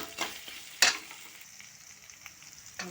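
Okra frying in a pan at home gives a faint, steady sizzle with a few sharp clinks and stirring scrapes, quiet and close.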